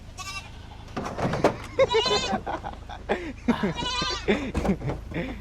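Goats bleating repeatedly at close range, their wavering cries rising and falling among people talking in Tagalog nearby.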